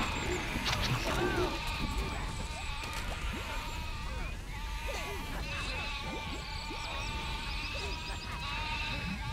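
Sheep bleating in the Overlord video game, several overlapping bleats and cries across a busy game soundscape, with a player talking over the top at times.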